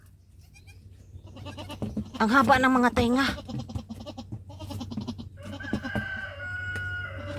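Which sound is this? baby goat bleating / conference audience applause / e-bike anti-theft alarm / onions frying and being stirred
baby goat bleating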